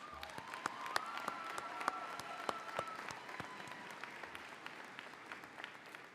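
A commencement audience claps for graduating veterans, a steady patter of many hands heard from a distance in a large hall, fairly faint and continuous throughout.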